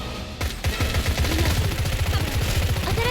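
Rapid automatic gunfire in the video game NIKKE, a continuous burst of evenly spaced shots that starts after a short pause and rattles on steadily at moderate volume.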